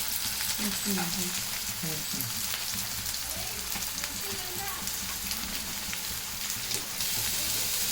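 Curry leaves and sliced onions hit hot oil in a kadai, producing a loud, continuous sizzle with sputtering crackles and occasional stirring scrapes, close up throughout.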